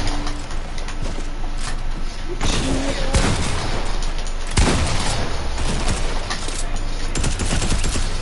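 Video game gunfire with dense bursts of rapid shots and booms, loud and continuous, with a few sharper blasts standing out and a faint voice underneath.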